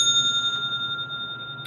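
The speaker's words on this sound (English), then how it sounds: "I brought out the sacral chakra bell, and ever since I started ringing that bell" A sacral chakra bell rings with a sustained, bright metallic tone that holds steadily and slowly fades, with a faint second strike near the end; close and clear, with no voices.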